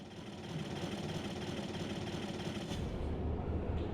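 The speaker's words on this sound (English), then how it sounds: "let me jump into the DPI and let us see how it compares" A DPI prototype race car engine idles in a racing video game, a steady, moderately loud mechanical hum with a low rumble that thickens slightly toward the end, heard alone without talk.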